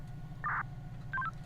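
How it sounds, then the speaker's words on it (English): A short electronic phone tone sounds for a 911 call in GTA 5, two brief beeps over a low steady hum. "Did you hear that little phone tone? That's the 911 call."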